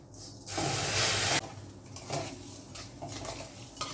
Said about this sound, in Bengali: চিনিটা মেল্ট হওয়া শুরু হয়েছে, এবারে আমি একটু সামান্য জল দিয়ে আরও কিছুক্ষণ করে নেব